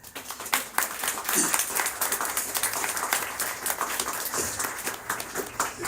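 Steady audience applause at a Bhakti yoga society gathering, many hands clapping in a dense, moderately loud patter that carries on throughout with little talk over it.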